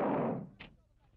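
A single gunshot from small arms training cracks loudly at the start and decays quickly, followed by a fainter, sharper second report.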